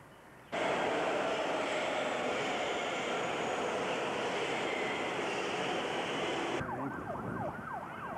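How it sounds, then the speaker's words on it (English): Washington metro train ride down to Smithsonian Station, a loud steady rush of rolling rail noise that starts abruptly and fills the scene, then gives way to a rising, wavering electric tone as the train slows. "We've just taken the metro down to the Smithsonian Station."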